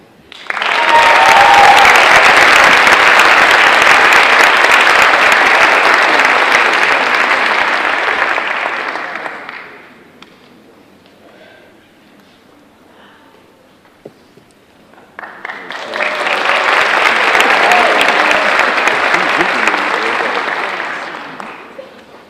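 An audience at a high school senior awards ceremony bursts into loud, sustained applause for about ten seconds, falls to near silence, then claps again just as strongly for several more seconds.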